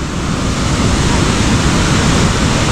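A swollen, flooding river roars past, a loud, constant broadband rush of water close by with no breaks and no voices over it.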